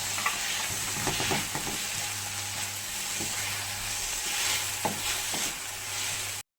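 Tomatoes sauté in a pan with softened ginger and garlic for South Indian chickpea kadala curry, giving a loud continuous sizzle and hiss broken by a few scraping stirs of a spoon.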